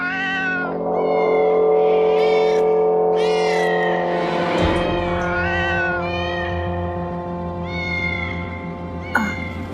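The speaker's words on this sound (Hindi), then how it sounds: "उस ब्लैक वाली बिल्ली की, जो खिड़की के बाहर है ना, वो बहुत रोती है।" Black cat crying outside a window, a run of loud drawn-out wailing meows one after another, close and insistent, with a brief low thump partway through.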